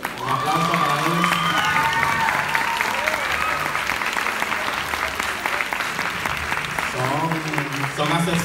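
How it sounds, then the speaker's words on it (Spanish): An audience at a ballet and performing arts school musical show claps steadily for two ballet teachers, dense sustained applause with some cheering, and a voice speaks over it at the start and end. "Un aplauso para ellos"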